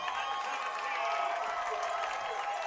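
The crowd at a high school football game, Rhea County Golden Eagles hosting McMinn County Cherokees, gives faint, distant applause and crowd noise across the stands, steady throughout.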